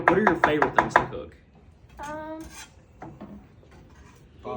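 A knife chops a bell pepper on a board in a quick run of crisp cuts at the start, then the cutting tapers to a few scattered cuts with short tonal bits between them.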